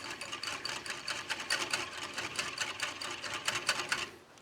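An electric whisk whirs steadily while dissolving cornstarch in a deciliter of liquid for a Swiss apple juice cream dessert, a close, busy motor buzz with a faint rattle that runs about four seconds before cutting off.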